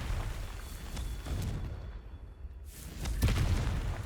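Confringo spell explosions cast in Hogwarts Legacy, a series of booming blasts and fiery bursts at moderate loudness, with a brief quieter gap before another heavy impact.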